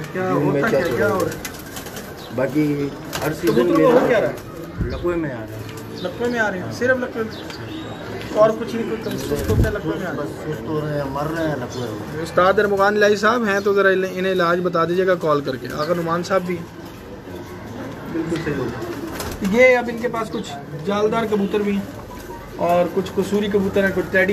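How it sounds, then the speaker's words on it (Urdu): Pigeons cooing repeatedly in a loft in Karachi, their throaty rolling calls close and prominent while someone talks over them throughout. "یہ وہی کبوتر ہیں جو آپ روز دیکھتے ہیں"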